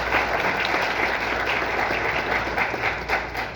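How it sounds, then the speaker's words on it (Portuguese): A round of applause at a legal workshop: steady, even clapping from a seated audience, continuous and moderately loud throughout, with no voices standing out. "Uma salva de palmas."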